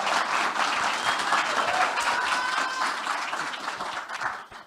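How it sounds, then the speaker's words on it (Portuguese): An audience at a technology and diversity talk breaks into sustained applause, dense clapping that holds steady for several seconds before tapering off at the end. "Uma salva de palmas para ela primeiro."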